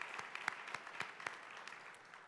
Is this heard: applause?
yes